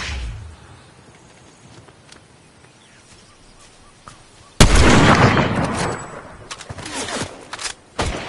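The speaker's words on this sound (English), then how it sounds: "Someone's shooting at you guys." Gunfire in the video game Fortnite: a sudden loud burst of shots at mid-clip, then sustained rattling fire, and another sharp shot near the end, following a quiet stretch.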